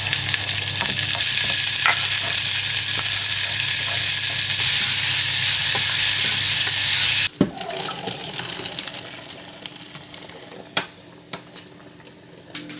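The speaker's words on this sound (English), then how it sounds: "I've just chopped up some onion and a chilli, and I'm just going to fry these off in just a little pan" Chopped onion and chilli fry in a small pan with a loud, dense sizzle that cuts off abruptly partway through. After the cutoff, only faint clinks and small knocks remain.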